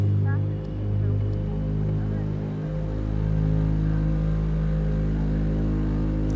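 Boeing 787-9 engines spool up in Microsoft Flight Simulator, giving a loud, steady low drone with layered humming tones that dip briefly early on before holding level.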